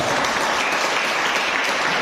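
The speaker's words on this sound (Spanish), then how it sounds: "Denle aplauso al Señor si se lo va a dar." Church congregation applauding during a worship service, a steady dense wash of clapping from many hands filling the room without any talk over it.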